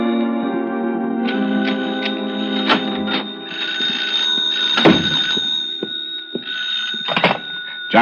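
Old-fashioned telephone bell ringing in repeated bursts, loud and close, in a mid-century radio drama setting, with other faint room sounds between rings.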